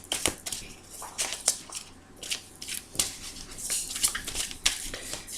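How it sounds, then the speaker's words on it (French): A deck of tarot cards being shuffled close up, with repeated crisp riffling bursts and soft slaps of cards in an uneven rhythm. "je vais bien battre déjà le jeu"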